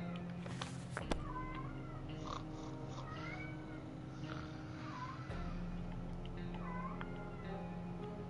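A pet cat meows repeatedly in the background, several short rising and falling calls spaced a couple of seconds apart, faint over a low steady hum with a brief knock near the start.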